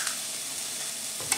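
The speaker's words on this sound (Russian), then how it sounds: "Белок сразу же начал жариться." An egg fries in a 28 cm Bollire pan, giving a steady close hiss and sizzle throughout with a small crackle near the end.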